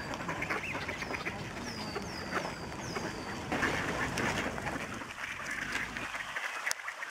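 Ducks quack in short repeated calls at a little distance amid outdoor background noise and faint water sounds.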